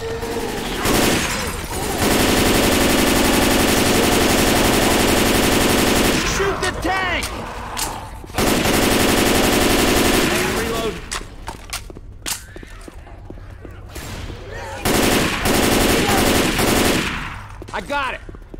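Long loud bursts of automatic gunfire aimed at the Tank in the Left 4 Dead 2 video game, rapid and dense with brief pauses and metallic clinks between volleys.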